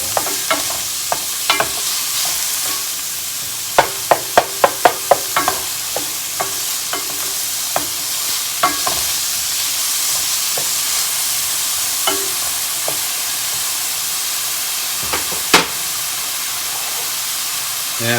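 Garlic is stirred into cauliflower rice frying in a pan, a constant hissing sizzle broken by sharp clicks and scrapes of the utensil, clustered early and then sparse.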